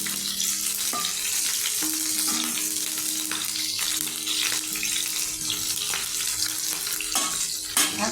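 Chopped onions and slit green chillies frying in a pan for a prawn chorchori, a close, steady sizzle with intermittent clinks and scrapes of stirring.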